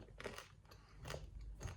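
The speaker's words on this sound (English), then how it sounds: "Really crunchy." Crunchy Japanese Poppin Cookin snack being bitten and chewed close up, three or four distinct crisp crunches spaced about half a second apart, quiet and with no talking.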